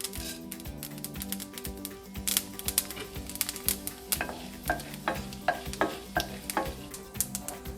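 Mustard seeds, urad dal and chana dal crackle and sizzle in hot oil for a South Indian tempering, a steady frying hiss studded with rapid sharp pops and spatters, close and moderately loud with no talking.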